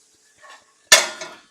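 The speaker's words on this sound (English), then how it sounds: "we can put the plate here, Purva." A plate set down on a kitchen counter in a home kitchen during Indian cooking, giving one sharp clattering knock with a short ringing tail, preceded by a faint shuffle.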